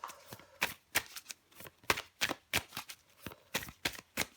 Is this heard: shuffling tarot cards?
yes